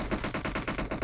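Rapid automatic gunfire from PUBG Mobile team deathmatch, a steady rhythmic burst of about a dozen evenly spaced shots, moderately loud and heard alone.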